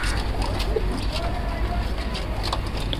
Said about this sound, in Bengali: দেখেন এখানে আমার কত সুন্দর খাকি কবুতর, জাবরা পাখি কবুতর, লাল গররা কবুতর আছে এখানে।